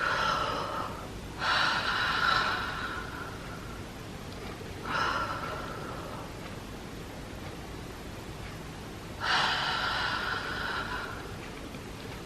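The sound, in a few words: deep mouth inhale, then exhaling with the tongue pushed out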